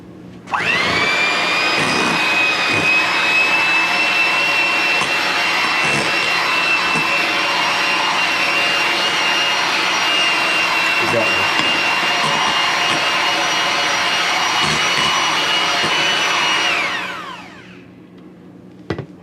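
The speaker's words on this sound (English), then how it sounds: "Just gonna mix this together, and then we can go ahead and start on the garnishes." An electric mixer whirs steadily while blending cream cheese for a low-fat cheesecake. The loud motor drone runs for about seventeen seconds, then winds down and stops.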